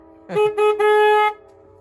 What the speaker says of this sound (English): That's the horn right there.